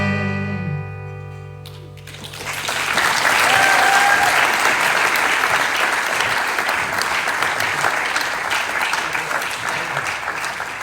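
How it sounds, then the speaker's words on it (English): A song's final sustained notes fade out, then a theater audience bursts into long, loud applause for the songwriters at the Rialto Theater, a thick wash of clapping that peaks and slowly tapers. "A round of applause for these guys."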